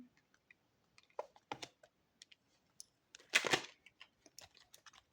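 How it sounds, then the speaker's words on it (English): Quiet, irregular light clicks and soft flicks of cards being shuffled close by, with one brief louder riffle near the middle. "I feel like this shuffling was super awkward."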